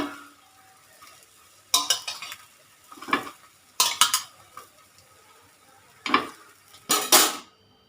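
Egg paniyaram lifted from a sizzling paniyaram pan: four or five distinct bursts of metal scraping and clinking, separated by quiet stretches with a faint sizzle beneath, close and fairly loud.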